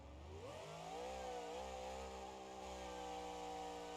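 A monster truck engine in BeamNG.Drive climbs quickly in pitch, then holds a sustained high-RPM whine and drone, steady and buzzy with rich harmonics, running alone without talk.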